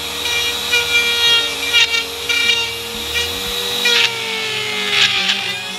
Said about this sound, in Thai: ผมก็จะล็อกไว้ครับแล้วก็ลองคว้านดูนะ